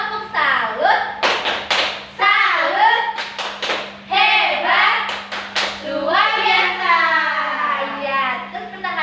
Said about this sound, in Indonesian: mari kita tepuk salut untuk kelompok 2